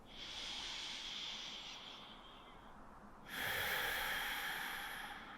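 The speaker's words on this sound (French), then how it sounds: "Une dernière respiration." Deep breathing during a yoga session, a slow, close, airy inhale followed by a louder, fuller exhale, heard alone with no talking.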